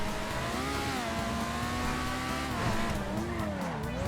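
A loud car engine in GTA 5 drives steadily and close up, its tone rising and falling as it revs through corners, with no talk.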